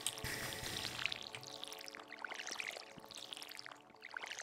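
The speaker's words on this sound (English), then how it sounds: "And we water them." Watering parsnips with a watering can in Stardew Valley gives a steady splashing pour with light drips, running continuously for several seconds at moderate level with no talk.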